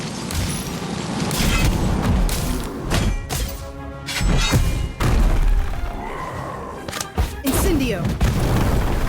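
Casting the Inflatus spell in the Harry Potter Magic Awakened game sets off loud booming thuds and crashing impacts in uneven clusters, mixed with whooshing magical effects, while game voices talk over the action.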